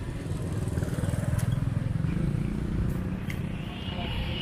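A small motorcycle, a Honda Cub, passes on a street in Siem Reap, Cambodia, its putt-putting engine close and steady, swelling then fading.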